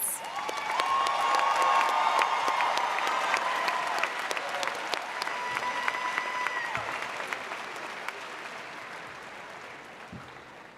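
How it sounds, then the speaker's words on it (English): A large commencement audience applauds master's and specialist degree graduates, broad sustained clapping with some cheering and whoops mixed in, gradually thinning toward the end. "Please give a round of applause to the master's and specialist degree graduates."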